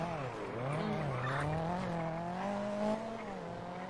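A car in a roleplay video game skids with a long, wavering tire squeal over a steady engine drone, loud and close throughout, with a slight bump near the end.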